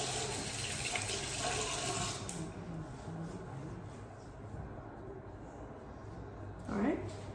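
Water splashed up onto a face at a bathroom sink, a running faucet's broad hiss filling most of the stretch before easing, with a brief splash near the end; a person talks over it.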